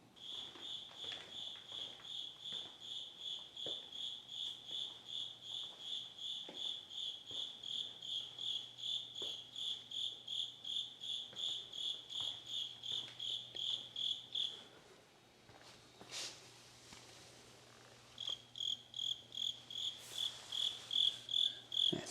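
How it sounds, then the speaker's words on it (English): Cricket chirping indoors in a 3D-printing workshop, a rapid steady pulsing trill repeating for many seconds, pausing briefly before resuming, fairly faint over a low background hum. "I think there's a cricket."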